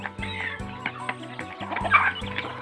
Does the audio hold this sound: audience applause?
no